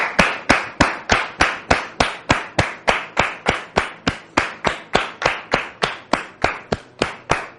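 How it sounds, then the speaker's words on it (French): At a French-language religious talk show, a studio audience welcomes Dame Kofi Solange with slow, evenly spaced rhythmic claps, roughly three per second, crisp and strong like unison hand-clapping, continuing steadily with no talk. "sous vos applaudissements, s'il vous plaît"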